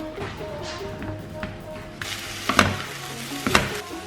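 Vegan mince fries in a pan with a continuous close sizzle, and two louder scraping bursts of stirring cut through near the end.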